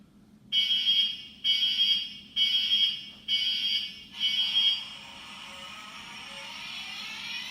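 An electronic model locomotive sound effect from a TTS sound chip: five loud, evenly spaced horn-like tone bursts, then a steady hissing rush that lingers after them.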